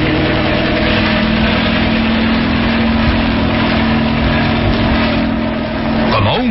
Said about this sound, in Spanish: Luego los motores se aceleran al máximo, impulsando el hidroavión a través de las cristalinas aguas e inicia el despegue.